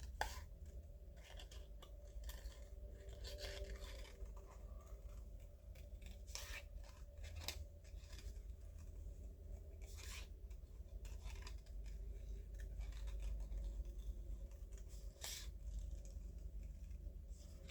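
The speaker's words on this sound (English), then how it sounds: "I'm trying to learn just to move the paper and not move my scissors" Snipping scissors cut through paper in short, irregular bursts, close and fairly quiet, over a low steady background hum.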